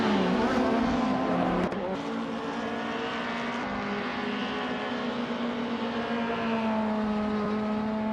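Race car engine accelerating in a racing video game, a loud continuous high-revving whine with a brief gear change early on, then a steady climbing drone throughout.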